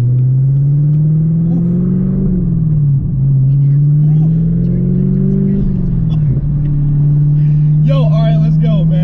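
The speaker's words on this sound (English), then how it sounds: "So we are in the Camaro ZL1 1LE, guys. So we're gonna do a quick startup here." A 2018 Chevrolet Camaro ZL1 1LE idles with a loud, deep, steady engine drone inside the car, rising briefly in a couple of light revs before settling again.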